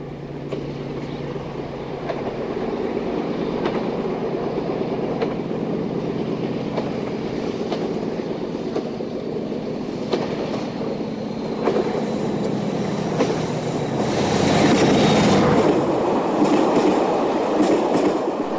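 Portuguese mixed-service electric locomotive hauling a train along rails, a steady loud rumble with rhythmic clickety-clack wheel beats that swell toward the end as the train passes close.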